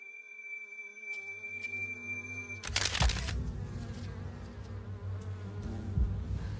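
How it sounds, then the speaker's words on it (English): A buzzing insect drone comes up as a low hum, followed by a noisy rustling burst, then a steady buzz continues at moderate level. "You can hear the bees."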